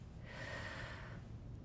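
A single deep breath is drawn in and pushed out through the nose and mouth, an airy hiss close to the microphone over a low steady background hum.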